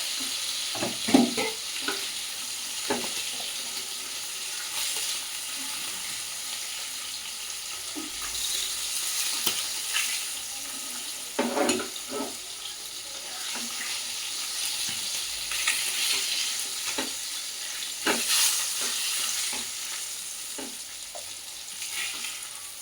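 Fish frying in a pan for a masala curry: a continuous close hiss of oil sizzling, steady and fairly loud, broken by intermittent clinks and scrapes of a utensil stirring and turning the pieces, with no speech.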